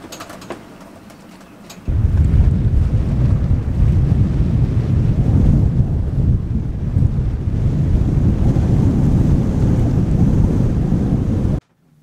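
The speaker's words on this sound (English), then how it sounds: "So as it's a pretty windy day here and we're just sat at anchor" Strong wind buffets a sailboat riding at anchor, a loud steady rush with waves slapping the hull, starting abruptly after a quieter opening and running continuously without talk.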